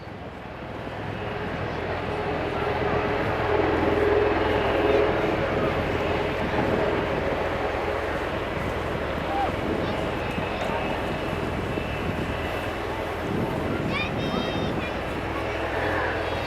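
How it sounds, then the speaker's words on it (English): A Bell Boeing MV-22 Osprey tiltrotor flies at an airshow, a broad, loud rotor and engine roar that swells and holds steady throughout. "The Osprey can convert from helicopter to airplane in as few as 12"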